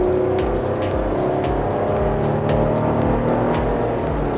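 A Chevrolet Colorado pickup truck pulls away from a stop at a traffic light, its engine a loud, continuous drone heard from inside the cab, with repeated faint ticking through the climb.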